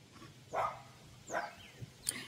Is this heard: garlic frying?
no